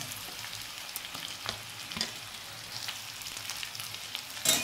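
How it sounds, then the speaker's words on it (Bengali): Potato and turnip pieces fry in a pan with a steady, crackling sizzle. Occasional scrapes come through, and a louder clatter sounds at the very end. "এবার আমি এটা একটু ভেজে নেব"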